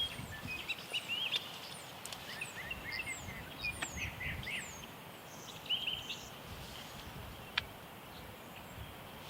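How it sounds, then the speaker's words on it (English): Scattered calls of wild turkey hens in Nebraska, yelps and clucks at a distance, over a steady outdoor rustle with a few sharper near sounds. "you can hear all the hens in the background making the noise"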